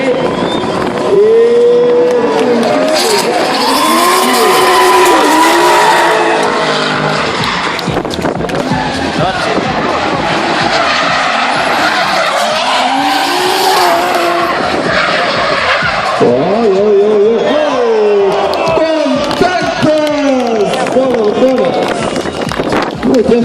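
Drift cars skid and scream through a 2013 drift event in Klaipėda, tires squealing and engines roaring loudly and continuously up close, while a commentator talks over the action throughout.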